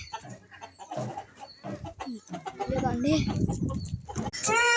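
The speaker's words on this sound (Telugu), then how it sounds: "ఇదిగోండి కోడిని ఇదిగోండి గైస్," A chicken clucks close by in a Telugu-speaking setting, with loud overlapping talk, then a rising squawk and high-pitched cries toward the end.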